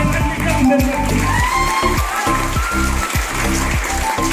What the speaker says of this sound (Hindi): एक बार जोर ताली बजाएं